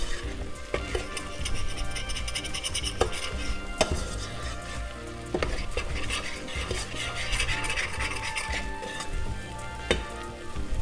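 A utensil scrapes cooked spices off the bottom of a frying pan, with repeated scratchy strokes and knocks over a continuous sizzle, close and busy, with no talking.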